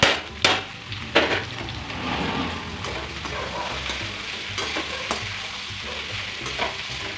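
Ginger, garlic and dried whole coriander frying in a pan, a steady sizzle broken by a few sharp scraping stirs early on, close and fairly quiet.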